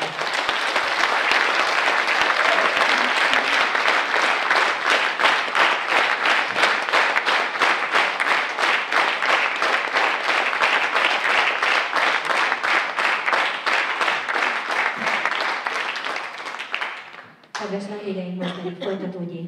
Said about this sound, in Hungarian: Mindegyikőjüknek közösen egy nagy tapsot szeretnék.